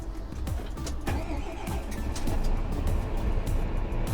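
A Fendt 942 tractor engine cranks and catches close up, a low rumbling churn settling into a steady idle with some clattering over about four seconds; no talking.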